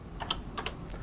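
Several quick, light key presses on a Color Computer keyboard, irregular clicks spaced a fraction of a second apart, soft and close over faint background hum.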